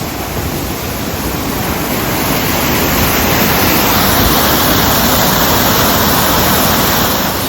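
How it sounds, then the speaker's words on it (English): Kennebec Falls, a waterfall in Tasmania, pours as a loud, steady, close broadband roar of rushing water that fills the whole clip without a break, with no voices. "And then there's the waterfall."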